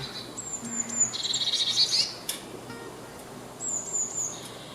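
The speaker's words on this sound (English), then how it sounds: "This bird is called a blue tit" A blue tit sings high, thin trills and twittering phrases outdoors in a garden, fairly faint against a quiet background hiss, with a pause before another short phrase.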